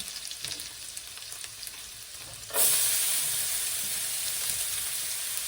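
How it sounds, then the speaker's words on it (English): Garlic and half an onion sauteing in a pan for chilaquiles rojos: a soft sizzle that surges into a loud, steady frying hiss as the onion goes in partway through, continuing undiminished to the end. "And I'm going to saute this for a little bit, not that long."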